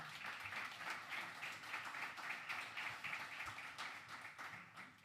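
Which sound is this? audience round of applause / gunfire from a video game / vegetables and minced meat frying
audience round of applause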